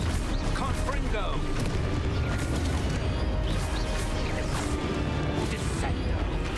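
A Confringo fire spell in Hogwarts Legacy sets off a loud, sustained explosive roar layered with crackling bursts and whooshes, amid the constant din of battle.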